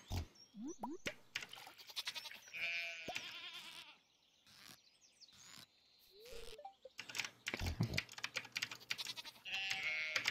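Goats bleating in the Stardew Valley farming video game, several short synthetic animal calls scattered across the stretch amid game sound effects and clicking keyboard taps, no talk over them.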